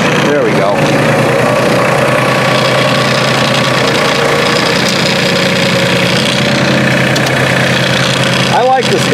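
A New Holland Workmaster 25 tractor engine runs steadily in four-wheel drive, a loud, close, continuous mechanical drone with a knocking idle character throughout, with a brief clunk near the end.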